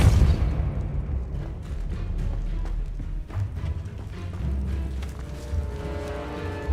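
In Hogwarts Legacy, the Expulso explosion spell sets off a run of heavy booms and crackling blasts that roll on for several seconds, loud and close, with sharp bursts scattered throughout.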